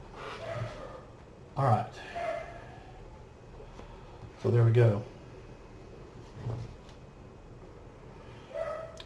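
Dogs bark indoors in two louder bursts of short, sharp yaps with softer yips scattered between, while someone talks over a quiet room background.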